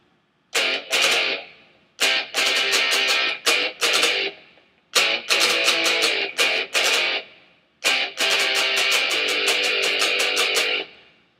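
A distorted electric guitar plays a choppy rhythm part in short strummed bursts separated by brief silences, fairly loud and alone.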